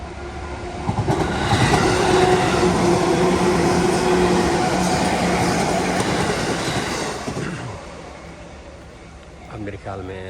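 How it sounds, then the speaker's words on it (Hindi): A train rumbles past a railway crossing in Tokyo, loud and close with clattering wheels and a faint squeal, building then fading as it passes, while someone talks over it. "और train is about to arrive."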